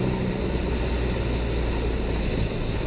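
Steady, loud drone of a light aircraft engine with carb heat on and power reduced for descent into Montgomery County Airport in Star, NC, a continuous propeller hum throughout.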